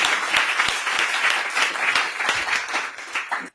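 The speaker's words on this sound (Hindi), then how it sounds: "जोरदार तालियां भाई लवलेश" Audience at a Hindi poetry gathering applauds a poet with dense, sustained clapping from many hands, steady and fairly loud for a few seconds before cutting off abruptly.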